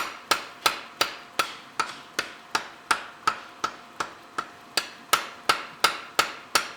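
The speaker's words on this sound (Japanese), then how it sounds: "幅、厚みを意識しながらハンマーで叩いて" A blacksmith hammers heated iron to shape a small kogatana knife, with crisp ringing blows struck at a steady, unhurried rhythm, close and clear against a quiet forge.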